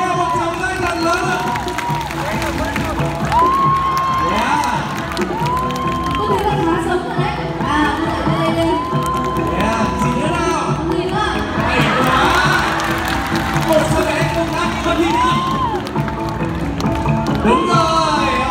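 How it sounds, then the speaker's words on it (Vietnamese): A young audience at a children's circus programme cheers and applauds after a Central Highlands dance performance, with lively crowd noise and children's shouts mixing with loud talk and upbeat music. "Ok, một tràng pháo tay thật lớn."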